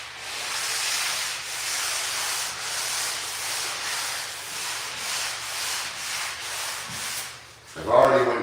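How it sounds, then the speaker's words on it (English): Sandpaper scrubs steadily across a fire-damaged surface at a building site where vinyl had burnt and melted, a loud, close rasping in repeated strokes, ending with a brief knock. "I've already went through and sanded the worst of it too, but there's still more."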